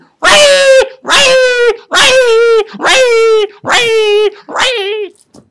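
A mimicry artist imitates a dog's bark six times in a steady rhythm, loud and close, each call a drawn-out, whining 'woof' sound.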